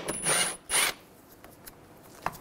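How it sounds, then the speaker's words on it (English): 10 mm socket ratchet loosening plastic nuts on a 2006-2009 Mercedes-Benz E350 during rear ABS sensor work, two quick close ratcheting bursts followed by faint small clicks and a sharp tap. "Using a 10 millimeter socket, take these nuts off."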